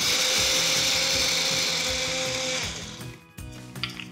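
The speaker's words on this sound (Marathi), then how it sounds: "हे भाजलेलं डाळवं मिक्सरमध्ये आपण याचे पूड करून घेऊयात" A mixer grinder whirs loud and steady as it grinds roasted dal into powder for tambitache ladoo, then winds down and stops near the end with a few light knocks.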